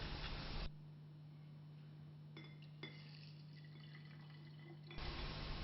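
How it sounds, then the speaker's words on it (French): Olive oil is poured into a glass graduated cylinder in a lab, heard as faint, close glassy clinks and a soft liquid trickle over a steady background hum. "20 ml d'huile d'olive sont mesurés avec une éprouvette."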